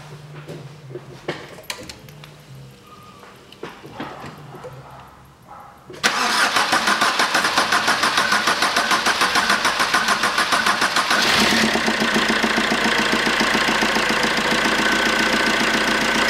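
A Fiat Doblo Cargo with the 1.3 Multijet diesel, repaired after a torn injector 3 and 4 mounting stud, cranks and fires up, then runs at a loud, steady rattling idle, following a few quiet handling noises.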